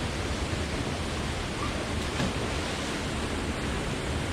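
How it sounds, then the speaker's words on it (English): A deep swimming waterfall on Cape York's Old Telegraph Track roars as a steady, dense rush of water that stays even and loud throughout, with no voices. "The waterfall through here."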